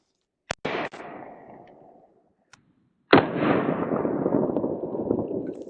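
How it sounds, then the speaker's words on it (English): Two sharp .22 subsonic pistol shots from a Smith & Wesson Victory fitted with a muzzle device, the first a crisp crack with quick echo, then a gap and a second louder report trailing into a long rolling outdoor reverberation. "22 subsonic out of a pistol, the Smith & Wesson Victory"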